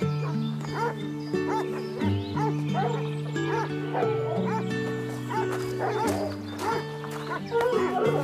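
Several dogs bark and yip in quick, overlapping bursts nearby, with whimpering mixed in and a sustained tonal hum underneath.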